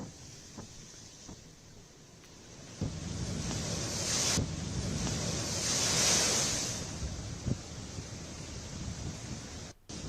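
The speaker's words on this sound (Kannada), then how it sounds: "ಕಾಕಿನಾಡದಲ್ಲಿ ದಡಕ್ಕೆ ಬಂದಪ್ಪಳಿಸ್ತಾ ಇರುವಂತಹ ಸಮುದ್ರದ ಅಲೆಗಳು" Rough sea waves pound the shore at Kakinada ahead of Cyclone Montha, a loud, sustained surf roar that swells midway, mixed with gusting wind noise and no voices.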